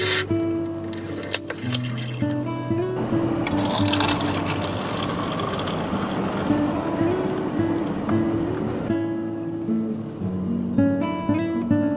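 Guinness stout is poured into a glass inside a parked car in winter, a steady gurgling fill that runs for several seconds under a faint hum, with a soft voice briefly near the start.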